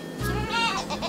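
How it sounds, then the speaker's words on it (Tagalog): A goat lets out a single wavering bleat, close and fairly loud, with a second fainter bleat trailing right after. "tignan nyo, napaka-cute ng mga kambing"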